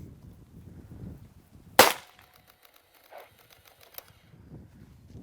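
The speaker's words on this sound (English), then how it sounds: "So let's go ahead and fire this first one and take special note to how far the gun recoils." A single sharp, loud gunshot from a Freedom Arms .454 Casull revolver firing a flat-nose round, with a brief ringing tail and quiet mechanical clicks afterward, heard outdoors.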